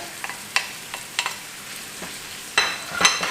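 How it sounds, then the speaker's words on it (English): Onions, garlic and ginger frying in a pan while being stirred for a bean curry, soft sizzling bed broken by sharp scraping and clattering stir strokes at irregular intervals, close and fairly quiet. "I will fry everything until it's golden brown, and then that's when I can begin adding spices and stuff"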